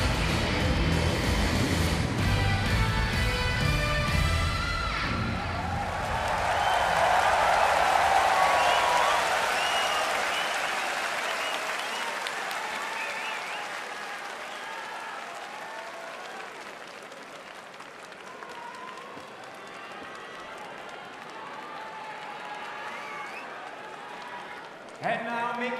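At a boxing event, a large home arena crowd applauds and cheers for champion Naoya Inoue, a roaring wash of clapping that swells midway and then slowly fades, with an announcer's voice over the noise early on.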